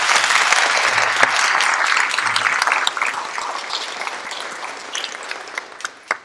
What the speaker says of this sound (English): Let's give both Nate and Jim a big round of applause